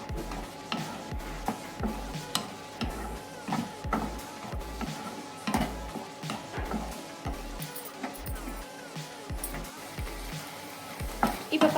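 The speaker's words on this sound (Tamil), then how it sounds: "சொரக்காய் நல்லா எண்ணெயிலே வேக வச்சிடலாம்" Bottle gourd sautéing in oil in a pan, a soft steady sizzle broken by regular scraping and stirring knocks from a spatula, close and fairly quiet.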